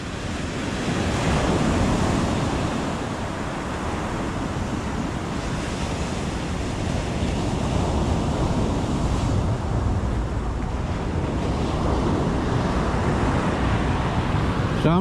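Breaking Atlantic waves at Rockaway Beach make a constant, full surf roar, mixed with wind noise and a faint road hum, swelling early and then holding steady.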